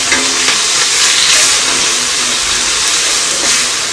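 Chopped tomatoes frying in a hot pan for restaurant-style daal mash, a continuous loud sizzling hiss with small crackles, no talking.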